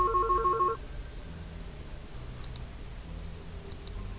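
A phone rings after a father's number is dialed: a short electronic ringtone burst at the start, then a steady high tone with faint clicks, moderately quiet, no talking.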